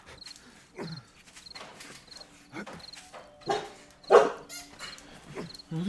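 Several dogs on a road in the survival game 7 Days to Die give short barks spread through the scene, mid-distance, over a steady cricket chirp and game ambience.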